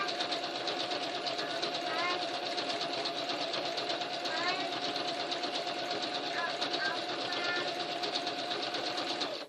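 A sewing machine runs steadily, stitching a zigzag around the center of a quilt flower appliqué, its fast, even mechanical whir continuous and close throughout.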